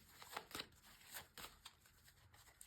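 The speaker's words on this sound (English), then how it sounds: "So first of all, a good shuffle." A deck of tarot cards is shuffled by hand in a few quick, soft riffling bursts, quiet and close, with no one speaking.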